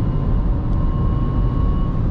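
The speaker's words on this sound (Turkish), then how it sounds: "böyle tatlı bir ses çıkarıyor motorun oradan, böyle küçük bir ıslık sesi" Mercedes-sourced engine in a new 150 hp Dacia Duster 4x4, driven on a dirt road, giving a steady loud interior drone at high revs with a faint thin whistle running through it, no voices.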